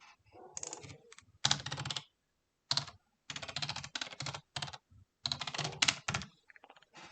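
Bursts of typing on a computer keyboard, rapid close key clicks in short runs separated by brief silences, no speech.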